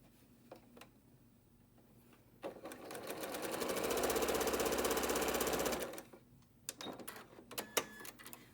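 A sewing machine stitches quilt block units for a maple leaf block, running in one steady burst of about three and a half seconds between quiet pauses with faint handling clicks.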